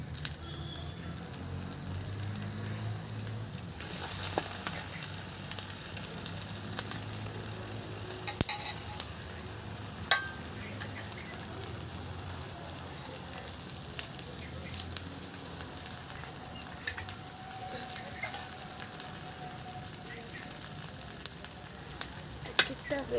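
Paturi fries in a banana leaf in a pan, with a low steady sizzle and crackle running throughout, broken by occasional sharper clicks and scrapes as the parcel is stirred and flipped, close and moderate in level.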